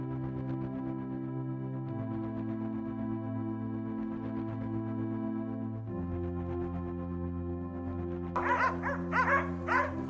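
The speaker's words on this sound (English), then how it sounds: "Suddenly, the sound of barking dogs broke the silence." Dogs bark in a burst near the end, several harsh calls from a hunting pack in the woods, cutting in over a steady low engine hum from a vehicle.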